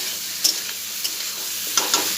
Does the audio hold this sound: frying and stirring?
yes